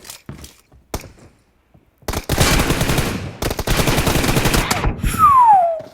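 Sustained automatic gunfire rattles in PUBG Mobile, opening with a few isolated shots, then long loud bursts of rapid fire and a falling whistle-like sound at the end.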